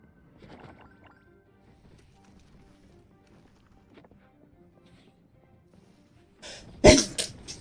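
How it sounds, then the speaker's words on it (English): Near-silence with faint shuffling, then one loud, sharp sneeze bursts out close by near the end. "I'm going to sneeze."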